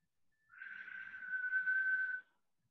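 A person whistles a single steady, sustained note for under two seconds, fairly quiet and alone with no other sound.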